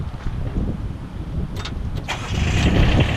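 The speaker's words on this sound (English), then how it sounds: "First what we want to do is start the machine" The engine of a GVF orbit lift machine turns over and catches, giving a steady, moderately loud mechanical rumble with a couple of brief sharp clatters partway through.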